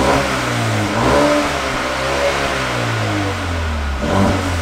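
Mercedes A35 AMG with its stock exhaust, revved repeatedly: loud, close engine blips rise and fall in a few surges, settling briefly between pulls, with no voices.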